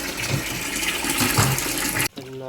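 Water splashes and gushes steadily into a home fish tank where snakehead fish are being raised, a loud continuous churning rush that stops abruptly near the end, with no talking.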